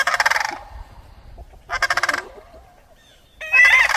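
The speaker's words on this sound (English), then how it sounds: "Turkeys and the cranes were right into it," Turkeys and cranes call on a farm, three loud bursts of raucous honking and gobbling spaced by short quiet gaps, with a faint trailing call in between.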